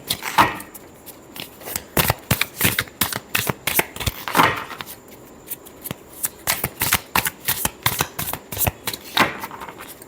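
Tarot cards shuffled by hand in a dense run of quick riffling snaps and slides, close and crisp, continuing steadily without speech.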